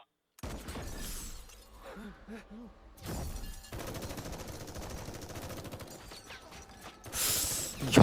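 Bursts of gunfire in an action film crackle amid shattering and mechanical clatter, with a loud blast near the end.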